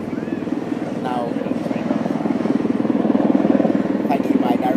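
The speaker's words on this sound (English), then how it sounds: "another helicopter is coming up" A helicopter passes overhead, its rotor chop growing steadily louder and more rhythmic over a few seconds, with a faint voice in the background.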